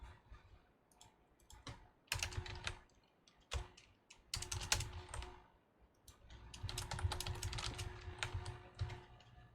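Code being typed on a computer keyboard during a programming lecture, bursts of crisp key clicks and clacks, some sharp and loud, with short pauses between runs and nobody speaking.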